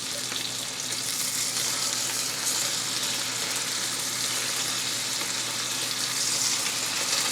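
Venison steaks fry in a pan, giving a dense, even sizzle that holds steady and close for several seconds with no talking over it.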